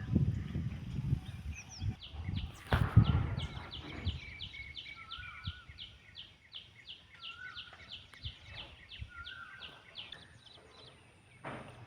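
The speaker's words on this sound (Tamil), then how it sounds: "இந்த மரத்தில் உட்காந்து பறவைங்கள்லாம் கத்தும் இப்போ கூட பறவை சத்துற சவுண்டு கேட்குதா" Rapid repeated chirping calls of birds in a Melia dubia tree in a village near Bangalore, a steady series of high notes, with louder rustling and knocking noises early on.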